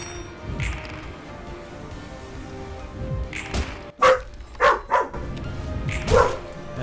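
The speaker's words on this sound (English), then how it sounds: "Thank you, Coco, for barking" A dog barks close by in a short series of loud, sharp barks clustered near the end, following a few softer thumps and knocks in a quiet room.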